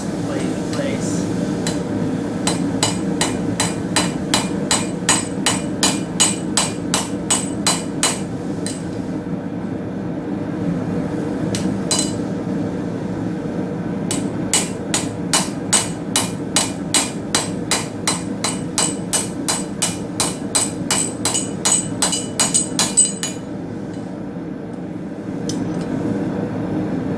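Hot steel rivet on forged knife blade tongs hammered in two long runs of rapid, evenly spaced ringing strikes, a pause between them, with steady background noise throughout.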